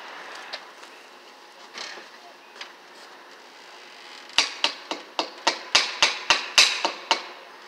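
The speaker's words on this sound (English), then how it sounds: "Always forever, Tommy, drilling these holes up in here." A rapid series of sharp mechanical bursts of a drill boring holes on a building demolition site, about ten quick pulses after a quieter stretch with faint background talk.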